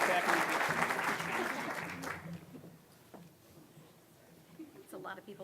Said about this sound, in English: Please give another round of applause to all here receiving this Distinguished Achievement Award.